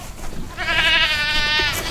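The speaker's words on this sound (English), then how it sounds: "Hungry goats." A goat bleats once, a loud wavering cry lasting about a second, close by, over faint background noise.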